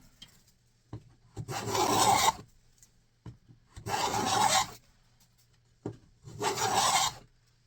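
A finely set hand plane shaves a rabbet along a wooden board in three steady, rasping strokes, each lasting about a second with brief pauses between them, heard close and alone.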